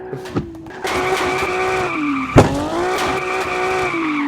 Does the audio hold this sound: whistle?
no